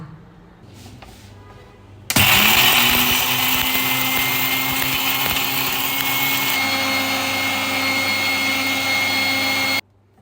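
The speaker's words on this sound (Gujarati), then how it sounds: "હવે આ વસ્તુને આપણે ક્રશ કરી લઈએ અને એનો પાવડર તૈયાર કરી લઈએ" Electric grinder crushing chai masala spices into powder, starting abruptly after a quiet moment and running loud and steady for about eight seconds with a high whine, then cutting off.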